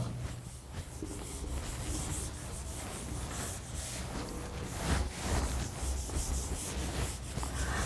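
A duster rubs across a classroom board during a maths lecture, giving a steady close scraping swish that rises and falls in continuous strokes, with no talking over it.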